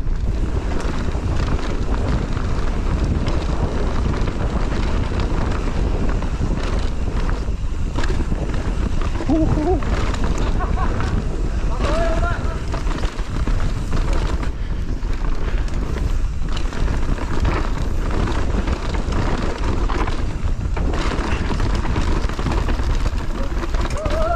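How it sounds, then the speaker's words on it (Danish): A strong wind blasts across the microphone outdoors, making a continuous loud roar and buffeting with gusty surges, and voices are partly heard underneath. "Kæft, hvor det blæser, mand!"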